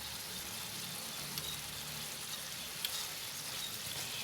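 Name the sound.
tofu stew with lemongrass and chili boiling in the pot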